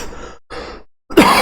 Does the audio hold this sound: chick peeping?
no